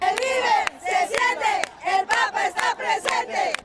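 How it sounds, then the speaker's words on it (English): A large crowd at Pope Francis's U.S. visit chants in unison, loud rhythmic bursts of many voices shouting together with short breaks between phrases. "The crowd chants, "We feel, we see, the Pope is present.""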